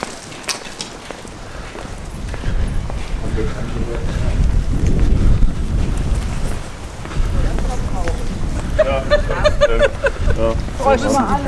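Gusty wind in St Andrews, Scotland roars and buffets the microphone as a low, steady rumble that swells through the middle, with faint voices and brief higher tones near the end.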